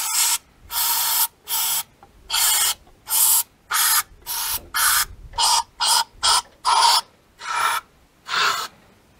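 Electrical contact cleaner sprays into a carburettor in about fifteen short, sharp hissing bursts of varying length, close up, separated by brief silences.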